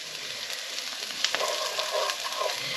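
Onions with paprika fry and sweat in a pan, giving off a close, continuous sizzling hiss with small crackles and pops.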